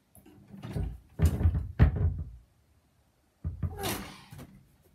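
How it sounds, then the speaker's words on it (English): Someone pulls hard on a stuck door that will not open: bursts of rattling, jolting clunks come in quick succession, then a short pause and another tug, close by and with no talking. "My door isn't opening."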